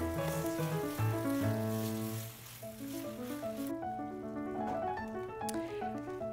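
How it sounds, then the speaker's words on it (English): Pork pieces browning in a pot for Shanghainese red cooked pork, a soft, steady sizzle under music, quiet and continuous with no talking. "Add pork, and you want to brown that."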